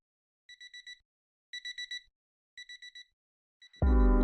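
A morning alarm clock sounds three clear bursts of rapid, high electronic beeps, four beeps per group with pauses between, before loud music suddenly cuts in.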